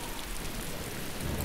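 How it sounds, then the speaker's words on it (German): Steady rain falls in the medieval trading game Die Gilde 3, a constant loud hiss of downpour with a low rumble underneath and no other sounds. "Andauernde Regenfälle sorgen für Überflutungen."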